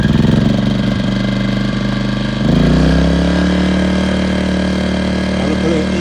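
A gasoline generator engine is started, then settles into steady running: loud, close mechanical chugging at first, shifting midway into a smooth continuous hum with a strong steady tone that holds to the end.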